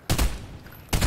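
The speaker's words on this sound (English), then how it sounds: "Oh, they're shooting." Gunfire in the video game Fortnite comes in two short, sharp bursts of rapid shots separated by a brief lull, punchy and close.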